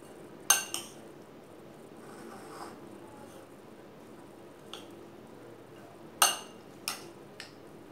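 A spoon stirs a sweet corn salad with tomato in a bowl, giving a few sharp clinks against the bowl among soft, quiet mixing sounds.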